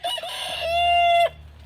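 A rooster crows once among chickens, a single close, loud cock-a-doodle-doo that holds a long drawn-out final note before cutting off, with faint hen noises behind.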